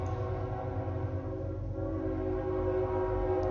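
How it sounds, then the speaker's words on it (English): A train passing close by, its steady, loud rumble of wheels and cars continuing throughout with harmonic tones from its horn or whistle layered on top, and no talking. "Train."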